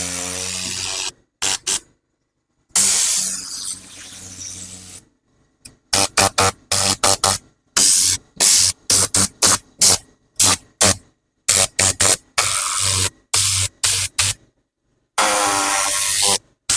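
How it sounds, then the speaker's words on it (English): A compressed-air blow-out tool cleaning a car interior, firing in loud hissing blasts, some long and several short rapid bursts, separated by silent gaps, close to the microphone with no talking. "blowing with this tool is just gonna either blow away a lot of the debris"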